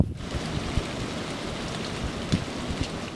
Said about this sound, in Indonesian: Oh, hujan sepertinya